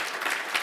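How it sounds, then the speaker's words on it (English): Dense, steady clapping from an audience after a panel discussion, a brief continuous burst of applause at even loudness. "So maybe a little bit of a round of applause for"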